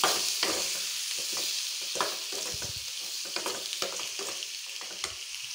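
Green chillies fry with salt and turmeric in a pan, a soft, steady sizzle with scattered spatters and the scrape of stirring, fairly quiet and with no talk.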